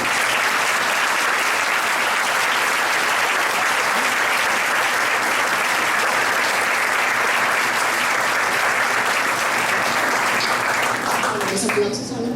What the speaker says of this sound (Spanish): Los aplausos hablan por sí solos, quiere decir que sí les gustó tu presentación.